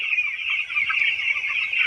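Dense chorus of 12-day-old chicks cheeping continuously at a poultry farm, a steady high-pitched chatter of many birds.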